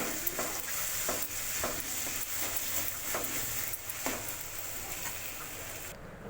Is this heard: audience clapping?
no